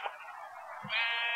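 A sheep in the Minecraft video game bleats twice in close succession, a wavering nasal call that rises into a louder second bleat, clear and up front.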